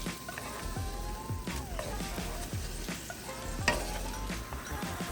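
Salmon bites sizzle softly in a honey sriracha garlic sauce over low heat, a steady gentle frying hiss with light scrapes and clinks, while a voice talks faintly in the background.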